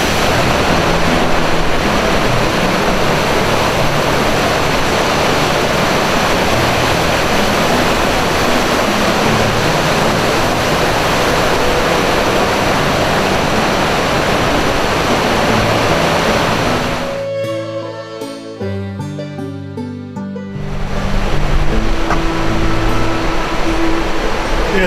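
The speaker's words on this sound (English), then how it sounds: "Those are some waterfalls." Waterfalls at Tettegouche State Park in April give a loud, steady roar of rushing water close by. It drops out briefly near the end, then returns.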